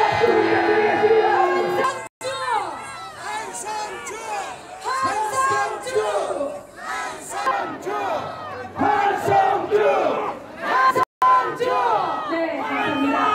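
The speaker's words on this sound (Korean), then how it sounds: "박수 부탁드리겠습니다." Large crowd at an outdoor political rally in Jinju calling out and cheering together, a loud sustained roar of many voices with shouts rising and falling, two brief dropouts breaking it.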